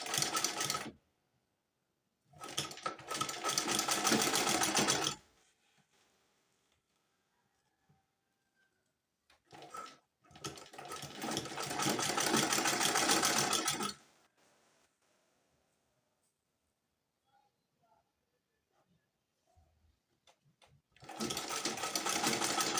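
Sewing machine running in bursts while stitching a sleeve seam on a balloon sleeve with elastic, three loud stretches of steady whirring separated by quiet pauses, with a short blip between them.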